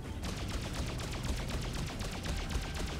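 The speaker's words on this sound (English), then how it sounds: "Enemies open fire." Rapid bursts of gunfire from enemy ships in the space combat game Freelancer, a dense rattling barrage of repeated shots running loud and continuous throughout.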